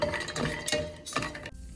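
Cashew nuts and almonds frying in ghee while being stirred in a pan, with scraping spoon strokes and light clinks over a soft sizzle.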